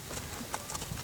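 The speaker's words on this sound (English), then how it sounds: "Very nice trot." A horse trots under a rider, hooves clip-clopping in a quick, even rhythm, fairly faint and close, with a little background noise.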